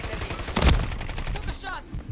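A gunshot cracks loudly in a video game, one sharp close blast followed by quieter rattling clicks, with faint talk in the background.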